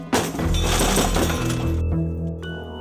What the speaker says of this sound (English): she threw a piece of firewood through the sliding glass door